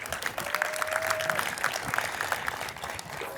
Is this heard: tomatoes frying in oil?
no